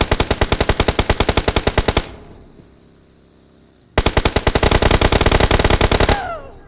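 Rapid automatic gunfire in the mobile battle royale game PUBG Mobile: a loud, close burst of evenly spaced shots, a short quieter gap with faint ringing, then a second long burst that cuts off sharply.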